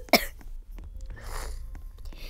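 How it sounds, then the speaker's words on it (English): A single sharp cough bursts out at the start, loud and close, then quiet room noise with faint rustling while a scary funeral-themed game plays. "I'm guessing that my coughing is the reason for it"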